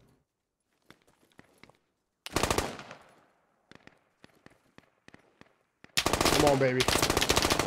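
Gunfire in the military shooter game Squad: scattered distant single shots, a loud close burst of automatic fire, then another sustained close rattle of shots at the end, with a short spoken phrase.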